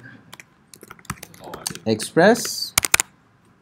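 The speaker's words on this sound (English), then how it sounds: "so I'm going to start typing" Computer keyboard typing in short bursts of crisp key clicks, close and fairly loud, interleaved with a person talking.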